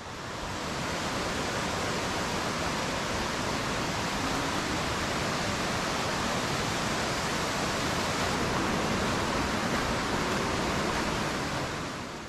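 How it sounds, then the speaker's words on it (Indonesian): Tumpak Sewu waterfall in Lumajang, East Java, with a loud, constant roar of rushing, falling water and no voices. "akhirnya kita udah mau deket air terjun Tumpak Sewu"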